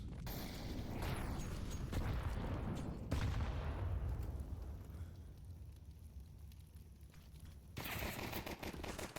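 Pistol and rifle gunfire in a Counter-Strike esports match, with loud overlapping bursts and rapid shots filling the opening seconds, a quieter lull in the middle, then another dense burst near the end.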